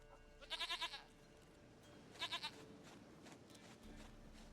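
A goat in the video game The Witcher 3: Wild Hunt bleats twice in short quavering bursts, the first a little longer, over faint ambient background with no speech.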